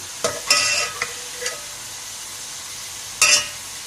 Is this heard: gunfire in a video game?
no